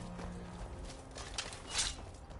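Faint horse hooves clop in Skyrim, a few soft irregular steps on the ground at a distance.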